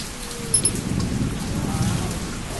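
Steady rain falling during a storm in a zombie survival game, a continuous hiss of drops with a low rumbling undertone and a brief sharp accent near the start.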